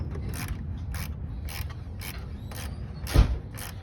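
An 8 mm socket ratchets down a radiator hose clamp on a 2000–2006 Ford Ranger, a run of evenly spaced clicking strokes, close and clear, ending with a sharper thunk.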